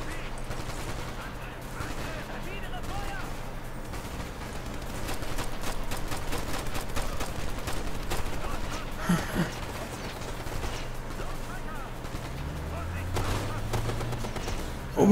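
Gunfire in the tactical shooter game Ghost Recon: Future Soldier, with dense bursts and rapid volleys running steadily throughout, played under excited voices of co-op players talking.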